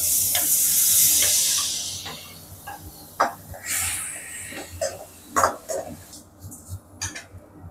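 Tomatoes sizzle loudly as they hit a hot pan while cooking an elephant foot yam masiyal. The hiss fades, and a utensil then scrapes and clacks against the pan in irregular stirring strokes, close up and with no talking.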